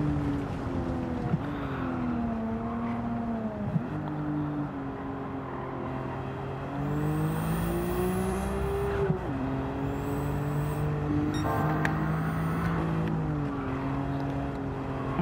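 Engine of a Yaris GT in Gran Turismo 7, a steady droning note that climbs and dips with gear shifts, with brief tonal whines over it, continuous and close with no talk.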